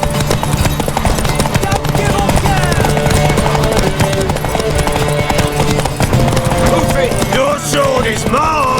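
Rhythmic horse hoof clip-clops in The Witcher 3: Wild Hunt beneath dense, continuous music and effects, with brief shouted voices mixed in.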